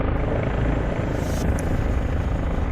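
A steady, loud helicopter rotor drones without a break in a video game flight, a dense low thrum with an even whine on top.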